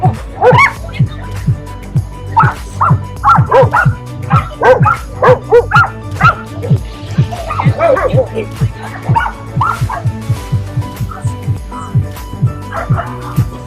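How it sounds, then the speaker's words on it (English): Dogs at a dog beach in Tel Aviv bark, yip and whimper in quick, repeated bursts, close and loud, with several animals overlapping almost continuously. "this is a dog beach"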